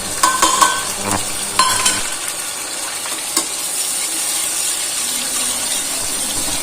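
Chopped tomatoes and red chillies frying for yellow moong dal, a steady sizzle with a few sharp stirring scrapes near the start, close and fairly loud, no talk.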